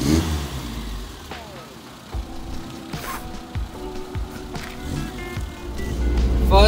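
A Nissan 1400 bakkie with a newly fitted carburetor drives with its engine revving, a rough mid-pitched drone that rises and falls with knocks and rattles, building louder toward the end.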